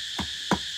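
Cicadas keep up a steady, high, shrill drone without a break, while three dull, low knocks land at roughly even intervals nearby.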